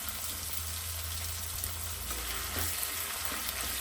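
Green chillies fry in hot oil with a dense, continuous sizzle and a low hum underneath, steady and close, with nothing else standing out.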